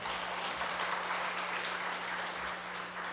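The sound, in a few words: applause, audience clapping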